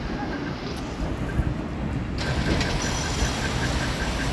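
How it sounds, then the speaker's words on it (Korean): Strong wind blows outdoors and buffets the microphone with a constant rough rush, rising slightly midway, and a faint distant tone under it. "날씨는 좋은데 바람이 너무 많이 불어."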